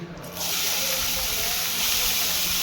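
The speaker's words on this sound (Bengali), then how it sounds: "কড়াই তেল দিয়ে আগে আমি চিংড়ি মাছগুলোকে ভালো করে ভেজে নিচ্ছি" Small shrimp hit hot oil in a wok, bursting into a loud, close hiss of sizzling after a short quiet start, then holding a steady, spitting roar to the end.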